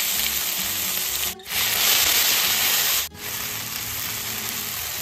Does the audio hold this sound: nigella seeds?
yes